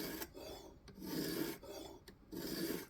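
Knife bevel stroked across a sharpening stone while feathering out a rough area, steady close rasping strokes in three long passes with brief pauses between.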